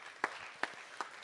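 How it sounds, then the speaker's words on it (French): A few scattered hand claps from a conference audience at a regional startup pitch event, three distinct claps spaced apart, quiet and distant over a low room hum. "On les applaudit, s'il vous plaît."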